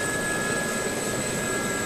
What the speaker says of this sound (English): then we get a split as the engine dies down, and there's a decoupling of the engine and the rotor